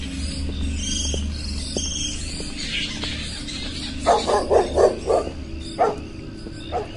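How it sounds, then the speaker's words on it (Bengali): Stray dogs bark in a quick run of sharp, mid-distance yelps followed by a few more scattered barks, set against a night-time hum of insects for a horror audio drama. "দুটো অভিভাবকহীন কুকুর এই অনধিকার প্রবেশকারীদের পানে চেয়ে বিশ্রী সুরে অভিযোগ করতে লাগলো"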